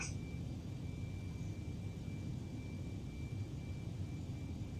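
Aircraft engine drone in Microsoft Flight Simulator, a steady, even low roar with a faint high whine held throughout, no one talking.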